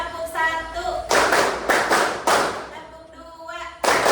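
A seminar audience in a school counseling session claps together on cue: a dense burst of group clapping in a room, with a few sharp clustered bursts under a voice.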